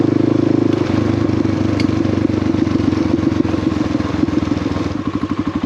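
A 2020 Honda CRF250L Rally motorcycle rides on a trail in northern Georgia, its single-cylinder engine thrumming loud and close with a rhythmic pulsing beat that shifts in pitch as the throttle changes.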